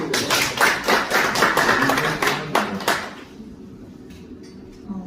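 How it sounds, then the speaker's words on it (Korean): Applause from a small audience at a business leaders' gathering in Seoul, greeting a real-estate leader coming forward; a few seconds of dense hand-clapping that thins out and fades to quiet room tone. "박수."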